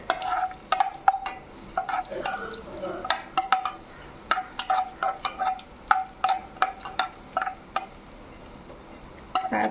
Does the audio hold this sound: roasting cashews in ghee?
yes